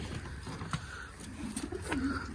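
Pigeons coo softly nearby in a few low, throaty rolling calls over a quiet background.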